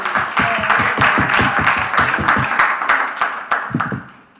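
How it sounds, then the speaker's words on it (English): An audience applauds at a National Action Network youth huddle, a short burst of close, rhythmic clapping that fades out over a few seconds, with no talk over it. "So let's give Ashley a round of applause, please."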